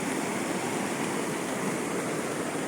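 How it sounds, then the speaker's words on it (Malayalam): A flooded river near Chooralmala overflowing its banks after a landslide, a dense unbroken roar of rushing torrent water, loud and constant with no pauses or voices. "വെള്ളത്തിൻ്റെ കുത്തൊഴുക്കാണ് ഈ കാണുന്നത്."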